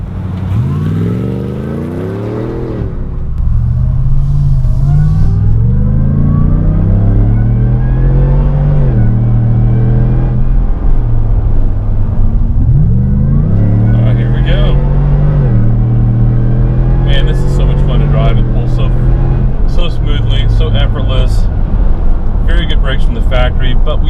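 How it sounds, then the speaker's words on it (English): A Hennessey HPE650 Tahoe RST V8 brake-boosts and launches, loud engine revving rising through several gears with a deep, sustained roar, briefly quieter at the start. "I'm gonna brake boost a little bit this time."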